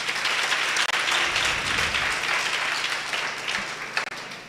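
Applause from a seminar audience for a session facilitator at an unemployed youth seminar in Sedibeng, a steady wash of clapping that holds evenly throughout without voices.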